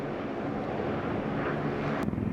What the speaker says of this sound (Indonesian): Donald Trump membagikan video pesawat bomber Amerika Serikat mendarat di Timur Tengah.